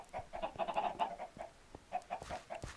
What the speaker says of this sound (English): There's another chicken over here.